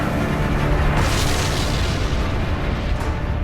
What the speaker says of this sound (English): The vents shoot plumes of sulfur 190 miles into the sky.